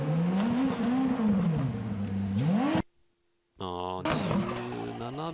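A Super Formula race car stalls during a pit stop at Motegi in round 4 of the 2014 season. Its loud, steady engine note suddenly cuts out into near silence, followed by other tonal pit noise, with race commentary running throughout.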